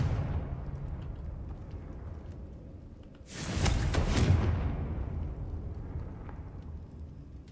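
A Confringo spell explodes in the video game Hogwarts Legacy, a loud broadband blast with a rumbling burst lasting about a second, then a decaying roar over a steady low background.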